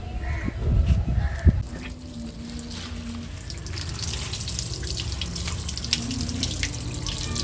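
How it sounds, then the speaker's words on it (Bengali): Taro leaves being washed by hand in water, with splashing and tap-like running water sounds throughout, fairly close, and occasional crow caws in the background. "কচু শাকটাকে ভালো করে ধুয়ে নিচ্ছি।"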